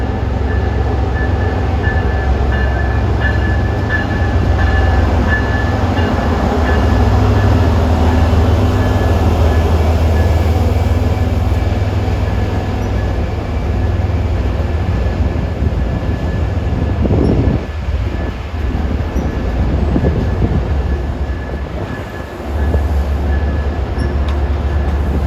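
A commuter train departs for Worcester on the old Boston and Albany line, its steady loud rumble and wheel noise rolling close by for the whole stretch, with a low engine drone and occasional clanks, no talking.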